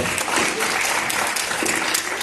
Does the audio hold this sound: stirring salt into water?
no